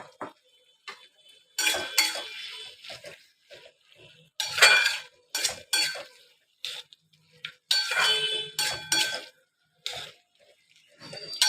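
Spinach with lentil dumplings (bori) being stirred in a pan: irregular bursts of spoon or spatula scraping and clinking against the metal, several short clattering strokes separated by quiet gaps, close and fairly loud.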